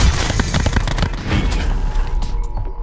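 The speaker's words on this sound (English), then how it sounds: "This guy's throwing 3 nades at me," Grenade explosions and gunfire in a shooter video game, with a dense, loud barrage of bangs and booms that runs continuously through the short moment.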